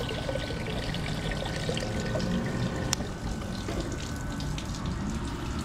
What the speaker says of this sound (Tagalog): Eh may kita natin kung saan napupunta yung excess water. So yan, mapupunta yan doon sa drain.